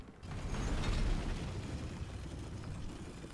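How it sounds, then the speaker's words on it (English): An elevator going up in the video game Remnant 2: a steady, loud mechanical rumble with grinding and creaking texture that swells early and then holds evenly. "It's gonna be an elevator."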